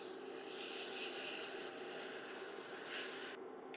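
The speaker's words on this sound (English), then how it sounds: "We're going to slowly whisk in the milk." Milk being whisked into a sauce in a pan as Christmas appetizers are prepared: a soft, steady swishing and scraping that runs evenly throughout, fairly quiet, with no talking.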